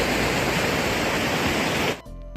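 Mountain waterfall on the Kinnaur Kailash trek, a loud, continuous roaring rush of falling water close by that cuts off abruptly near the end, leaving quieter background.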